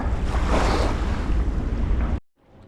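Wind sweeps across a big river during white bass fishing, a loud, rough rush buffeting the microphone for about two seconds before it drops away to a faint hiss.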